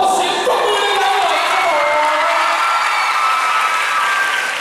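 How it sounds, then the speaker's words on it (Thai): An audience at a fan meeting in Bangkok with actor Ahn Jae Hyeon applauds loudly. The dense, steady clapping is mixed with high cheering and squeals and stays full for the whole stretch. "ขอเสียงปรบมือให้เรา"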